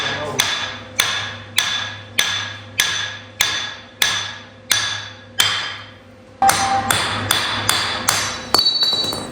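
A bearing being hammered off an RV rear axle in a shop: a steady run of about a dozen sharp, ringing metal blows, close and loud, each with a short metallic decay.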